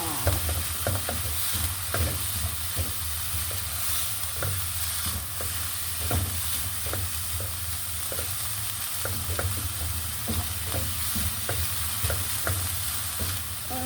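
Ground pork sautés with eggplant in a pan, a steady sizzle broken by frequent spatula taps and scrapes against the pan, close and continuous without any speech.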